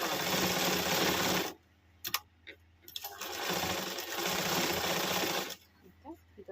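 Sewing machine stitching blouse fabric, a loud, fast steady whirr that stops abruptly, gives way to a few clicks and handling noises, then runs again in a second burst before halting, close up.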